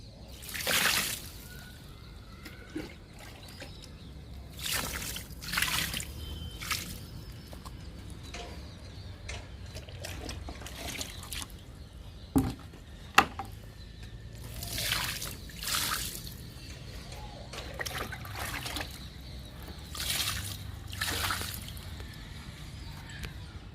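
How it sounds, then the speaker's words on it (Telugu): Liquid kitchen-waste fertilizer poured onto okra plants in a garden, bursts of splashing and trickling water at irregular intervals, fairly close, with occasional birds in the background. "బెండ మొక్కలకి ఇచ్చేద్దాము లిక్విడ్."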